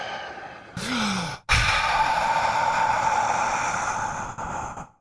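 A man takes a long, audible breath in a played recording. A sharp intake is followed by a sustained, breathy exhale like a heavy sigh, close and fairly loud, with no speech.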